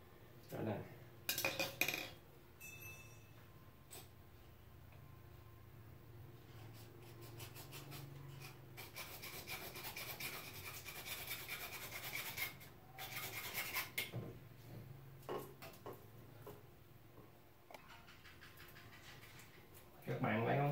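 A pipe is sawn by hand for a bathroom tap fitting, producing bursts of rasping, scraping strokes separated by quieter pauses, close up and moderately loud, with a person talking at times.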